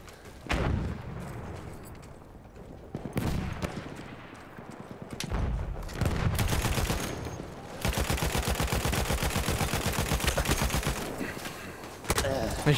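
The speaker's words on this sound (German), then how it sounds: "das MG ist nicht sehr, sehr präzise, dass man den Typ absolut verfehlt" Machine gun fire in Battlefield 1 rattles in fast, steady bursts, with a long sustained stretch near the end, mixed with other gunshots and battle noise in a desert setting.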